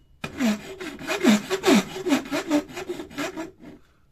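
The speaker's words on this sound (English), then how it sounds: "I'll just need to sand that bit down. When I say sand, I mean file." Hand-filing a handmade shoto lightsaber hilt: a close, steady run of about ten rasping back-and-forth strokes in an even rhythm, then stopping abruptly near the end.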